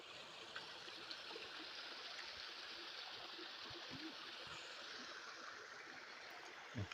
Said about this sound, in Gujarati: આ મેન અહીંયા ધોધમાં પાણી પડે છે